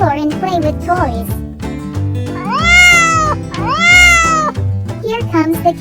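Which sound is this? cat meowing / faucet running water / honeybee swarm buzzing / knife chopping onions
cat meowing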